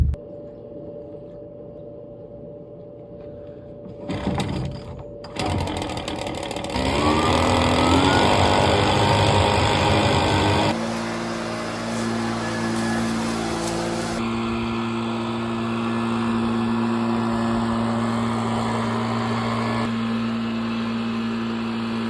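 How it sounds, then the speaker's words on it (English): A car is parked under a shed: a few clunks and door thuds come first, then the engine rumbles loudly and steadily at close range before dropping to a lower, even idle. "Let's get the car parked back underneath the shed."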